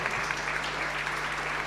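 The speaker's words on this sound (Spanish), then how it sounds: "Denle un aplauso bien fuerte a este Señor." A church congregation gives the Lord a loud, dense round of applause during a Sunday service, a continuous wash of many hands clapping steadily without pause.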